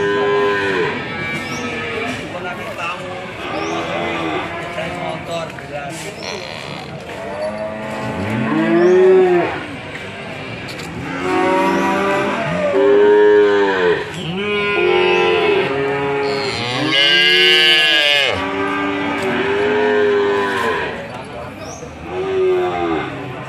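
A very small cow moos repeatedly, loud drawn-out lows close by, with voices talking between and over the calls.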